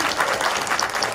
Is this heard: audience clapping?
yes